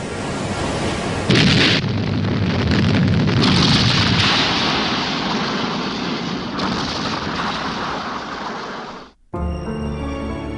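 Torpedo explosions strike the aircraft carrier Yorktown in a loud, continuous roar of blasts and rumbling booms lasting several seconds, then cut off sharply into a brief different passage.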